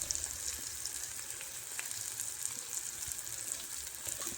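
Turmeric, garam masala and red chili powder sizzle in hot oil for a ridge gourd bhaji, a steady, even crackling hiss that runs throughout at moderate volume with no voices.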